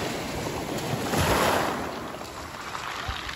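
Sea waves washing ashore at the Olympic beach in Sochi, a steady broadband wash that swells briefly in the middle, with some wind noise and no speech.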